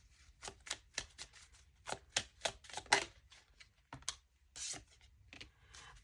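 A Saddle tarot deck being shuffled by hand, a series of quick, crisp riffling bursts at irregular intervals with short pauses between, fairly close and quiet.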